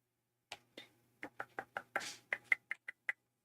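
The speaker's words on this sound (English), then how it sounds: "My dog is like attacking the door because she's trying to get the flies." A dog crashes against a door while trying to catch flies, a series of about a dozen sharp, separate knocks and thuds in an irregular rhythm, close and fairly loud in an otherwise quiet room.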